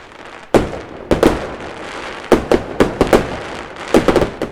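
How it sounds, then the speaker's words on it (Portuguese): Fireworks bursting in a series of sharp, loud explosions with crackling tails, about eight reports spaced irregularly over a steady hiss. "a explosão ali ou estalos dos fogos de artifício"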